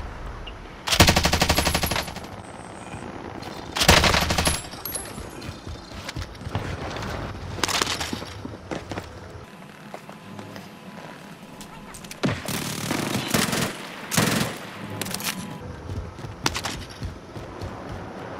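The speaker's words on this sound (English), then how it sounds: "I'm under fire." Gunfire in Call of Duty Warzone, loud bursts of automatic fire at irregular intervals over busy in-game noise, with radio-style voices speaking between shots.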